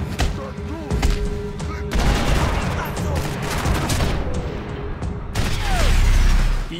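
Dense gunfire in the shooter Max Payne 3, with rapid bursts and single shots cracking over thuds and booms, loud and continuous for several seconds, with a voice speaking underneath.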